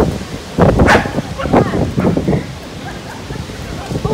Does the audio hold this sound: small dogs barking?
yes